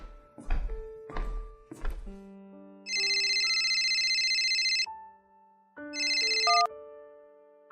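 A mobile phone rings with a bright electronic ringtone, two loud bursts separated by a pause, following a few thuds and tonal beeps, with no talking.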